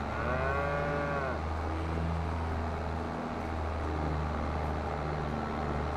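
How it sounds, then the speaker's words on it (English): Cattle in the farming game Farming Simulator 22 let out several low, drawn-out moos over a constant engine-like hum, with no one talking. "There you are, moo-moos."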